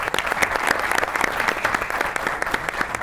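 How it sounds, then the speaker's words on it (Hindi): An audience of chefs applauds on a television talk show set, a full, continuous wash of clapping at steady volume from start to finish. "इनके लिए बहुत सी ताली होनी चाहिए।"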